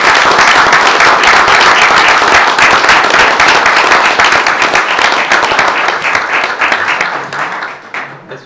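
Loud, dense round of applause from attendees at a school board meeting honouring teachers, sustained and then tapering off toward the end.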